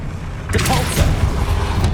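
The Depulso spell cast in the video game Hogwarts Legacy, a sudden forceful magical whoosh and thump arriving half a second in, loud and close, trailing into a low rumble.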